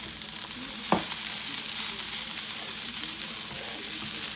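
Cooked rice for fried rice stir-fried on a hot cooking surface, giving a steady loud sizzle with scraping stirs and a sharp clatter near the start, no voices.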